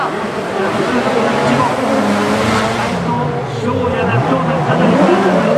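A drift car runs past at a Formula Drift Japan event, its engine a loud, steady roar with tire noise that rises and falls over several seconds, while spectators talk excitedly close by.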